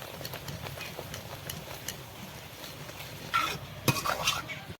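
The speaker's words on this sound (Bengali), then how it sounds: "চালটা সিদ্ধ হয়ে গেছে এখন ঘুটে দেব" Boiled rice and lentils being stirred with turmeric in a pot for a Bengali dal, a close, busy scraping and swishing with soft clinks of the utensil against the pot, plus a few sharper knocks near the end.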